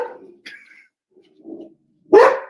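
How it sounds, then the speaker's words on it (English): An upset dog gives short whimpering yips and then one sharp, loud bark, close by in a quiet room. "The dog is upset."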